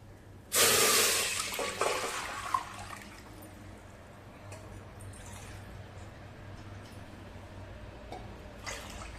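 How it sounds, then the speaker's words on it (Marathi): A bowl's worth of water splashes into a cooking pot for Rajasthani khichiya papad, a loud gush that tapers off within about two seconds, followed by quiet kitchen ambience and faint clinks. "ज्या वाटीने आपण मैदा मोजून घेतलाय त्याच वाटीने दीड वाटी पाणी घालूया टोपामध्ये"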